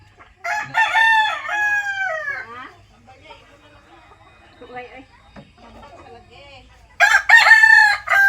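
Pet chickens at feeding time, with a rooster crowing loudly nearby twice, a long drawn-out crow at the start and another at the end, with softer clucking and quiet sounds between.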